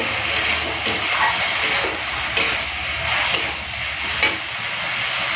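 Banana flower and potato being stirred together in a pan, with a steady close sizzle and regular light scrapes and taps of a spatula against the pan.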